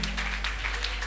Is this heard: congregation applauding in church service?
yes